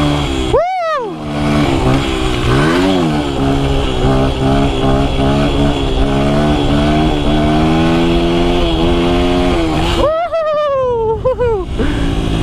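Free dirt bike engines being ridden, a loud close buzzing engine that holds steady and rises in pitch, with a sharp rev burst near the start and again near the end.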